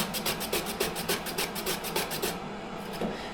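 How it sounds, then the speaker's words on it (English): A carrot is shredded into ribbons on a julienne slicer, giving rhythmic scraping rasps, about ten strokes in quick even succession, close and fairly loud, then easing off near the end. "I'm gonna shred this with my julienne slicer"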